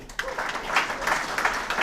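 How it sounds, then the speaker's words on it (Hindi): A small seminar audience gives a short burst of clapping for a person being introduced, a few uneven claps rising and falling over about two seconds. "नीरज जी के लिए जोरदार तालियां।"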